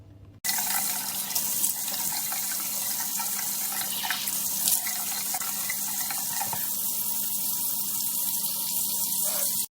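Tap water runs steadily into a bathroom sink while a face is rinsed, a close, continuous splashing rush with small shifts as hands move under the stream.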